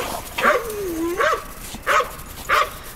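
Dogs in a yard with resident and rescue dogs give four fairly loud, close barks and yips, spaced about half a second to a second apart, each with a whiny, rising-and-falling tone.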